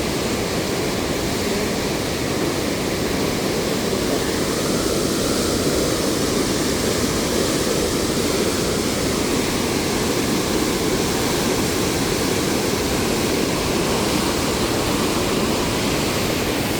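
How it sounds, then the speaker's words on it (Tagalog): Huka Falls on the Waikato River near Taupo, New Zealand, roaring as a steady, loud broadband rush of falling water that holds constant throughout with no voices. "dito nang gagaling ang tubig ng Waikato River"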